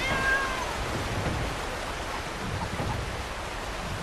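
A cat in Red Dead Redemption 2 gives a brief meow early on, heard over a steady wash of rain and distant storm noise.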